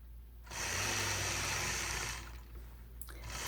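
A sewing machine stitches straight quilting lines through a star quilt block, running steadily for about a second and a half, easing off, then starting again near the end.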